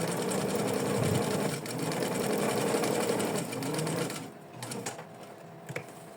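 Sewing machine stitching a short zigzag buttonhole on fabric, a fast steady mechanical whirring at close range that runs for several seconds, then stops, leaving a few light clicks and handling noises.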